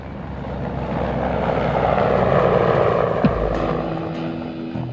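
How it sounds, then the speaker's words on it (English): A Mi-24 Hind helicopter's twin-turbine engines and rotor drone steadily, swelling slightly louder then easing, with faint clicks and knocks near the end. "The Hind is powered by twin-turbine 2200 horsepower engines"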